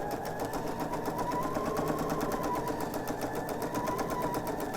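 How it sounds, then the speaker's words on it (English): Close, steady whirring of a sewing machine running along a pieced quilt seam for a table topper, an even continuous hum with a faint rapid needle patter and no talking. "Slow when I get to the seam, use my stiletto, and finish sewing this seam."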